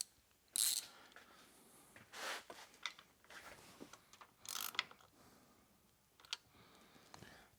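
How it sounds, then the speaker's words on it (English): A ratchet with a deep socket works on the M62TU V8 engine of a BMW 540i, 740i or X5 during belt and crankshaft pulley removal. Sharp, close clicks and clacks come in irregular short bursts over a quiet background. "Let's just take our ratchet in here and"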